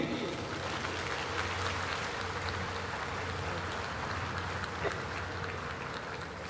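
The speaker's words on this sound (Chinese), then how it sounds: "请掌声鼓励。" Audience applause at a National Day ceremony, a broad sustained crackle of many hands clapping throughout, with a faint low hum underneath and muffled voices.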